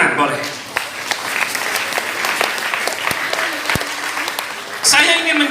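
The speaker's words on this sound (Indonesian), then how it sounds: "Tepuk tangan boleh." Applause from an audience at an Islamic boarding school gathering, a few seconds of brisk clapping from a crowd, with a voice speaking near the end.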